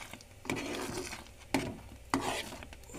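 Ukad frying in plenty of oil is stirred with a utensil, with three distinct scraping strokes against the pan over a faint sizzle, close and fairly quiet.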